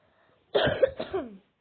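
A single person coughs a few times up close in a quiet room, a short rough burst lasting about a second.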